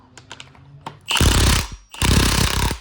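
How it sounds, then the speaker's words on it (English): A half-inch impact wrench loosening a connecting rod bolt on a D16Y8 engine: after a few light clicks, two loud hammering bursts of rapid rattling, each close-up and almost a second long, split by a short pause. "I'm gonna need the impact for this right here"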